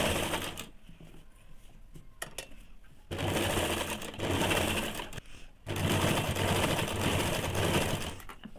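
A sewing machine runs a line of stitching on salwar piping, with bursts of steady motor whirring separated by brief pauses, close and fairly loud, with no voices.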